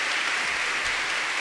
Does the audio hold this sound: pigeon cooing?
no